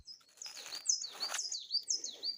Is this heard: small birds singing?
yes